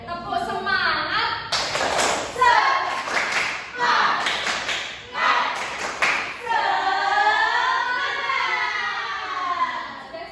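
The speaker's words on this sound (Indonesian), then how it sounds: "Kita ice breaking terlebih dahulu biar semangat lagi. Tepuk semangat." A class of children does a rhythmic clapping cheer as an ice breaker, with bursts of sharp patterned claps alternating with chanting voices, and a teacher's voice leading in the classroom.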